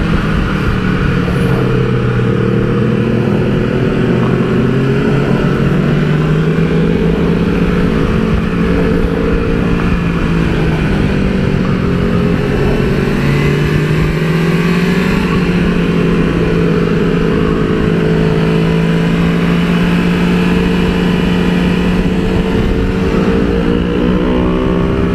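A BMW S1000RR sport bike at a track day roars steadily at high revs, the engine pitch rising and falling through gear changes, loud and close with wind rush throughout.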